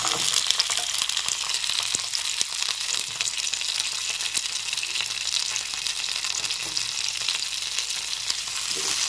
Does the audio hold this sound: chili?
yes